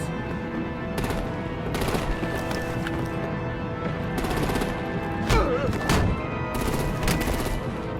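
Video game artillery gunfire in Batman: The Telltale Series, The Enemy Within, with repeated bursts of shots and booms over a busy layered action soundscape, fairly loud and continuous.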